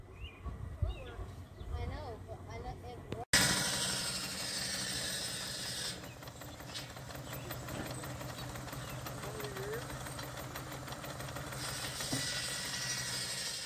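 A steam engine runs under a dummy load, starting with a sudden burst and settling into a dense, steady mechanical chuffing and rattling hiss. Voices are heard briefly before it starts.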